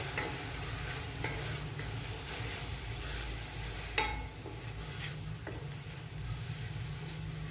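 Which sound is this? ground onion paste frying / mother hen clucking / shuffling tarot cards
ground onion paste frying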